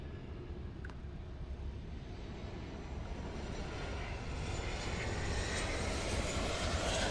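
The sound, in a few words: American Airlines passenger jet passing at Miami airport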